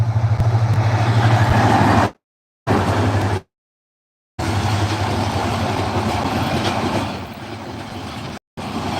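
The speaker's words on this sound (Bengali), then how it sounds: "আপনারা দেখছেন যে একটা ট্রেন আসতেছে ঢাকা থেকে চট্টগ্রামের পথে যাচ্ছে" A Dhaka–Chittagong train rumbles steadily past close by near Rajapur Fakirhat station, a heavy continuous roar with rattling wheels, interrupted by a few brief silent gaps.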